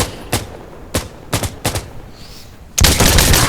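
Gunfire in Insurgency: Sandstorm, with five sharp, loud single shots spaced about a second apart, then a brief lull and a sustained burst of rapid automatic fire.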